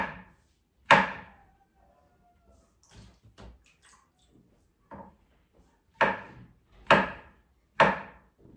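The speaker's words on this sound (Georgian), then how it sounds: "მაცადე ეს დავჭრა და მოგცემ კიდე" A knife chopping food on a cutting board in a home kitchen: irregular, crisp chops, a few scattered light ones and then several firm, evenly spaced strokes, close and clear with no talk.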